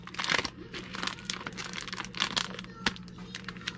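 A well-taped mail package being wrestled open, with close crinkling, crunching plastic and tape sounds and a few sharp tearing bursts across a few seconds.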